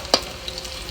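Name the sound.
frying whole cumin with onion and potato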